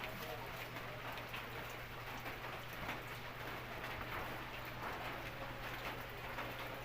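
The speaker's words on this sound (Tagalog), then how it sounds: "Sana tumigil na yung ulan." Steady rain falling at night in Tacloban City, a dense, even hiss of drops on surfaces that continues without a break, with a low constant hum underneath.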